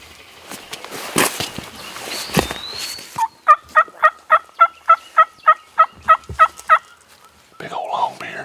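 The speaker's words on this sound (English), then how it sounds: "There's a bunch of turkeys." Wild turkeys in the field: a long-bearded gobbler lets out a loud, rapid gobble of about a dozen evenly spaced rattling pulses, preceded by rustling and a brief higher call, with faint movement noise afterward.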